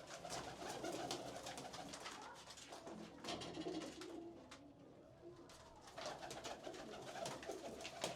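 Pigeons in a loft coo softly and repeatedly in the background, among rustling and scattered bird sounds, with the cooing rising and falling in short phrases.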